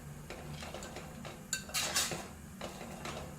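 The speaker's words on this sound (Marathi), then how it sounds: "छान असा मिक्स करून घ्यायचा आहे." A spoon clinks and scrapes in a pot as masala is stirred into rice and hot water, quiet rhythmic scraping with a couple of brighter metallic knocks, no voices.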